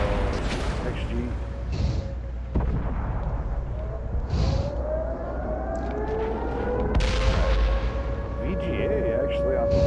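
Rapid gunfire and explosive blasts from a competitive shooter video game, dense and continuous with siren-like tones sweeping through a loud, busy mix.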